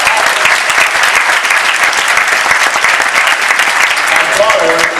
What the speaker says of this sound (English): So give yourselves another round of applause.